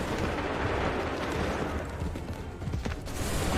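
Soldiers open fire in the video game Assassin's Creed III, a dense, rumbling volley of musket shots blending into continuous loud crackle and boom, with a sharper burst of reports near the end.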